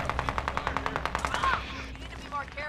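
Rapid automatic gunfire in a video game, about a dozen sharp shots in quick rhythm, close and loud, then scattered fainter shots with speech over the end.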